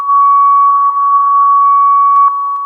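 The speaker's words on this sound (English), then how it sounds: "We have a few tones coming out right now." Fire dispatch alert tones come over a radio as a loud, sustained steady tone with slight warble, ending in a couple of short blips.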